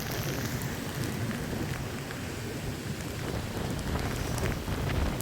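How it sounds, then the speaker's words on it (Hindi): Heavy rain driven by strong wind in a mountain area, a dense steady roar of drops with gusty rumble throughout, loud and continuous with no voices. "सुभान अल्लाह, बारिश उड़ उड़ के जा रही है।"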